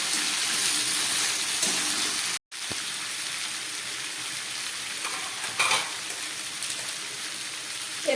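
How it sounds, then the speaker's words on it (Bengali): Vegetables seasoned with salt and turmeric sizzle steadily in a pan while being stirred, a dense continuous hiss broken by one brief dropout and occasional scraping movements. "নুন আর হলুদ দিয়ে আমি আরেকটু নেড়ে নেব।"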